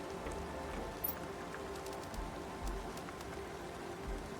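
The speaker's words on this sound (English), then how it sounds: "It's raining outside." Rain falls in the game Planet Crafter as a soft, steady patter over a low hum, with faint scattered drips and taps.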